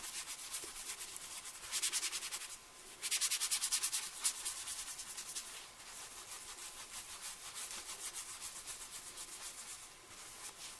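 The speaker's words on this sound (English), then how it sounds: "the first thing I do is rub my makeup brush into the oil" Makeup brush rubbed and swirled in oil during brush cleaning, a close, continuous bristly scrubbing with strong hiss and repeated back-and-forth strokes, a louder stretch in the middle and no talking.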